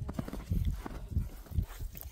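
A horse of about 1.60 m, offered for sale, walks on firm ground, its hooves clip-clopping in a loose uneven rhythm close by, with a few thuds and faint background sounds.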